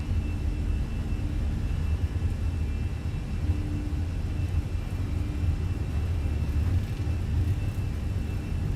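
Fenix A320 airliner engines spooling at takeoff power in a flight simulator, a steady, loud broadband roar and rumble with a faint high whine, continuous throughout with no talk.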